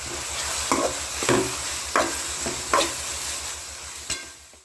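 Chopped parotta and curry leaves stirred in a hot pan for mushroom kothu parotta, a soft continuous sizzle broken by about five sharp scraping strokes, close with no talk.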